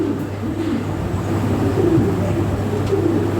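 Lahori toy pigeons, a male and female pair, cooing steadily in low, rolling throaty calls close by, with a faint background hum and no speech.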